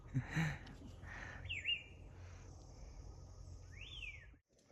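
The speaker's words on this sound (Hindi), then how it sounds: "ये पंछी की आवाज़ आप सुन ही रहे होंगे।" Birds calling in a small forest near a Himachal village, with a few clear rising and falling whistled chirps standing out over a faint, steady outdoor hum.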